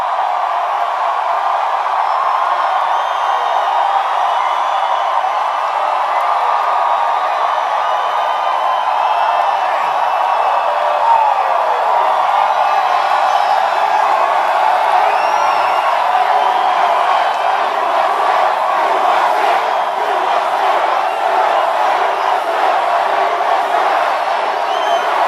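A huge rally crowd at a Trump event in Columbia, Missouri roars and cheers without a break, a dense, loud wall of voices with scattered whoops and shouts rising above it.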